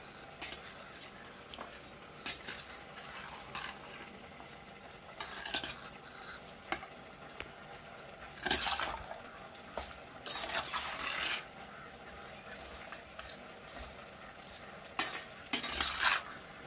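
Scallion, garlic and hot pepper being mixed into raw seasoned beef in a bowl, irregular wet stirring bursts with utensil clinks spaced across the clip, close and moderately loud between quieter pauses, no talking.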